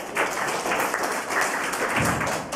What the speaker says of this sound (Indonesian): Tepuk tangan buat Tuhan.